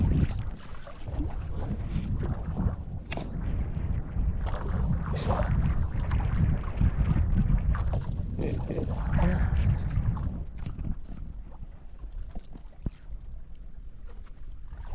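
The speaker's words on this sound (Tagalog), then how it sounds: "Mahangin pa rin sa labas mga tangay." Steady wind buffets the open air around a boat at sea, a loud broadband rush with water splashing and a few faint voices mixed in.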